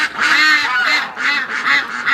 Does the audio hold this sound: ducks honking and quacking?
yes